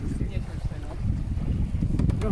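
Steady, blustery wind roars over the microphone on a fast-moving sailboat, with a low rumbling of water and hull running continuously throughout.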